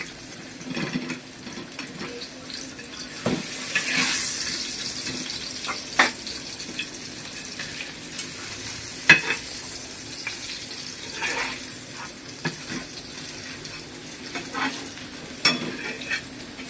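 Ingredients for a Malvani prawn curry sauté in a pan with a steady close sizzle and hiss, punctuated by occasional scraping stirs and soft clinks throughout.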